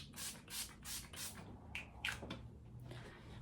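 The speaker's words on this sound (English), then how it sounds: "I'm going to go in with the All Nighter by Urban Decay and just spray a couple mists all over my face." Urban Decay All Nighter setting spray misted onto a face, several quick airy pumps in a row followed by softer rubbing and handling sounds, close and quiet.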